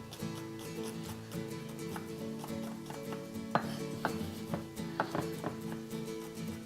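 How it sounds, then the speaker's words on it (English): Knife chopping vegetables on a cutting board during holiday cooking, a run of quick irregular close taps and knocks over a steady background hum, with no talking. "we'll just give these a quick chop"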